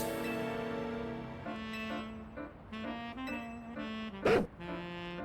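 A blue dog Pokémon in Pokémon Legends: Z-A lets out a short, clear synthesized bark cry over steady game background music, rising sharply near the end.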